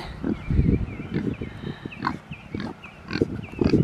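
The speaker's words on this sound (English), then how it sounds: "he is definitely our sweetest pig" A pig on a farm grunts repeatedly nearby, low rough snorts coming in irregular bursts, with faint higher bird-like chirps in the background.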